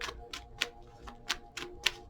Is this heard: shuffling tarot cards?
yes